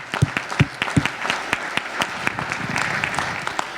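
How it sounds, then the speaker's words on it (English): Applause from a conference audience at Loop Conf, beginning with a few distinct heavy claps and filling out into a thinner, ragged patter of hands. "One more round of applause for the incredible speaker lineup."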